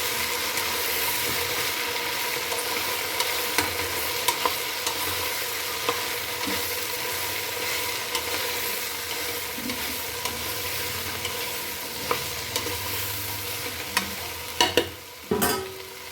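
Vegetables frying in a pan for a home vegetable curry, a steady close sizzle running throughout with scattered clicks and scrapes of stirring, growing busier with louder knocks near the end.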